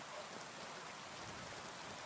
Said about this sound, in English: Get ourselves out of the rain.